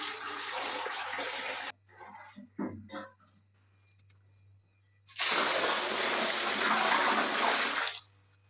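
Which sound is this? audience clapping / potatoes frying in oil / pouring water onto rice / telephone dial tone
pouring water onto rice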